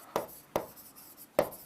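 Points are written by hand, heard as three short, scratchy strokes. The first two come close together and the third follows after a pause. The sound is quiet and close, with no voices.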